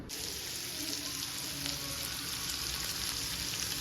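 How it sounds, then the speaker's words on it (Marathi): Chopped onion fries on a well-heated griddle, giving a steady, close sizzle that holds evenly throughout with no talking. "त्याच्यामध्ये घेते कांदा टाकून तवा पण चांगला तापलाय आपला"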